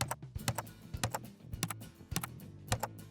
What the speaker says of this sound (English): I'm going to go ahead and type in the name Death